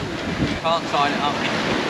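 Strong wind buffets and roars while sailing on a sailboat, with close gusty rumble and rushing water under it and a brief faint voice in the middle.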